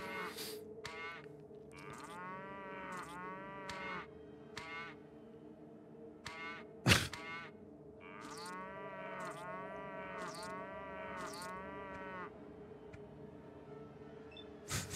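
Brahmin cattle in Fallout 2 mooing repeatedly, several drawn-out moos overlapping at once, with short clicks between them and one sharp thud midway, steady and fairly loud with no talk.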